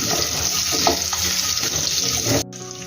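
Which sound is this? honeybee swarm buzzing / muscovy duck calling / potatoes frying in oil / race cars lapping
potatoes frying in oil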